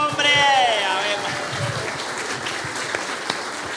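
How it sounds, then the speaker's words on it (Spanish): Clapping for a retiring teacher, a modest group applauding while a voice calls out with rising pitch over the claps, the applause continuing as a steady wash underneath. "¡Aplauso, hombre!"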